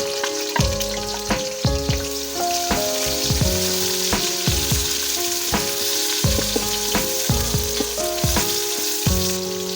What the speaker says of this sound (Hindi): अब इसी स्टेज के अंदर हम प्याज ऐड करेंगे जो मैंने स्लाइस कटिंग कर ली